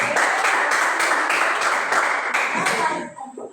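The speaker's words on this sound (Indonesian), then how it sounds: "Tepuk tangan dulu" Audience clapping in a classroom or seminar hall, a steady burst of many hands fairly close that tapers off near the end, with faint voices underneath.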